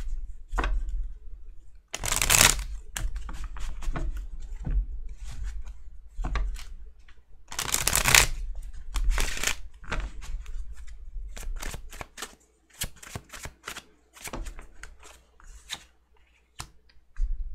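A deck of tarot cards being shuffled and handled close up, with bursts of riffling and rapid flicking snaps, scattered light taps and quiet gaps between, with no other sound.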